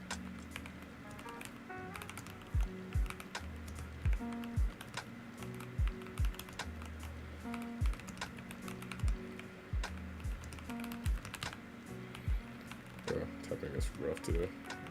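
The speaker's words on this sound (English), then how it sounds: "Typing is rough today." Typing on a computer keyboard, with key clicks arriving in short irregular bursts and scattered single taps under a steady background and low talk, fairly quiet overall.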